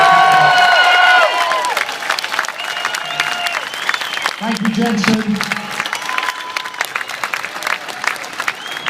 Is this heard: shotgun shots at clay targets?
no